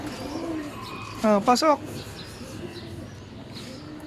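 Racing pigeons coo softly around a loft after a long-distance derby race, a low steady murmur that runs throughout while someone speaks briefly over it.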